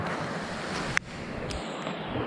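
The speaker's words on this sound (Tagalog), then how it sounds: "Doon yung dagat." Sea surf near a lagoon rolls as a steady broad wash of waves mixed with wind buffeting the microphone, interrupted by one sharp click.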